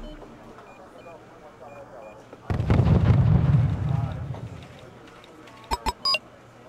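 A mortar artillery barrage in Wargame: European Escalation, a heavy rumbling blast lasting over a second after a quiet stretch, followed by a few short, sharp pops near the end, with a voice talking.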